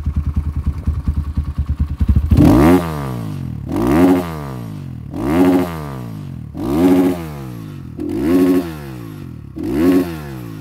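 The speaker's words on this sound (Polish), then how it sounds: "Dlatego mówię, no drgnięcie gazem. Patrzcie, to delikatnie drgnę gazem." A Diabolini Demon 300cc engine rated at 28 hp idles with a rapid putter, then gets six sharp throttle blips at even intervals, each rising quickly and falling back, heard up close.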